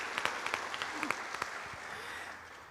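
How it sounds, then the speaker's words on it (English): Applause at a school awards ceremony for four student honorees, a crowd clapping steadily for a few seconds with sharp individual claps standing out before it fades. "let's have another round of applause for these 4 Heart of the Panther representatives."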